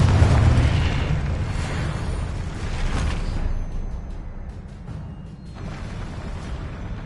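A Confringo fire spell explodes in the Hogwarts Legacy video game with a loud, rumbling boom that fades into a long, crackling tail of debris and lighter bursts.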